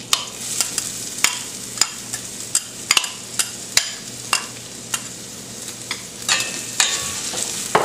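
Chopped onions fry in oil in a pan for Indian-style Chinese fried rice, with a steady close sizzle and a regular run of sharp spatula strikes and scrapes, roughly two per second.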